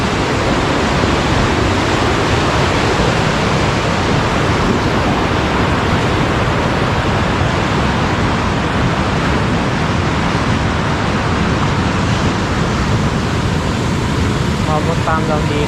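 Strong rushing floodwater surges during a typhoon, a loud, dense, unbroken roar of churning water close by that stays steady throughout.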